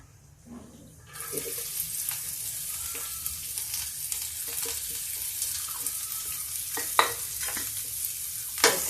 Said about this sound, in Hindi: प्याज को थोड़ा थोड़ा हम भून लेते हैं।